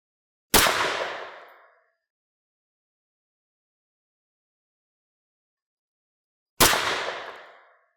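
Two sharp, loud .22 Magnum reports from a KelTec rifle fired into a gel block at close range, spaced about six seconds apart, each decaying over a second with silence between.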